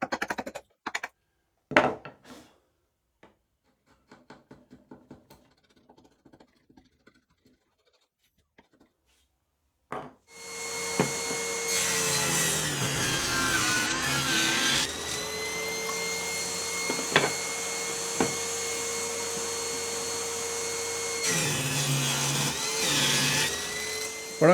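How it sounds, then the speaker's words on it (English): Table saw cutting plywood jaw pieces for a wooden drill press vise, a loud sustained whine of the running blade after a few quiet handling clicks and taps, with brief dips as the cut proceeds. "I'm going to do part of the way, at least, on the table saw"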